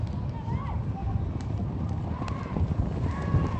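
Racehorses run on a track at a Cyprus horse race, their hooves giving a soft, steady clip-clop in the distance while a commentator talks throughout over the top.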